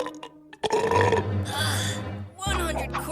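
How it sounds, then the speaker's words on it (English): A cartoon character lets out a long, loud, drawn-out burp that rumbles for over a second, then a second gurgling belch follows, with animated voices around it. "any one of you peasants may burp on my behalf"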